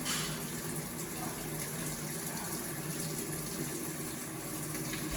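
Water gushes steadily into the tub of an Avanti TLW 21D2P portable washing machine during rinse, a faint continuous rushing fill with a low hum, no talking.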